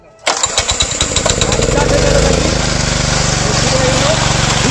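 A roof leveling machine's engine starts abruptly with a sputtering burst of quick firing pulses, then settles into a steady, loud, close running roar.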